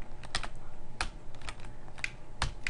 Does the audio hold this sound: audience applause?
no